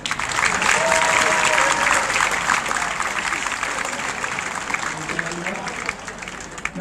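A university convocation audience at Sukkur IBA claps for a graduate, a sustained dense round of applause with crowd murmur that stays loud and gradually thins out.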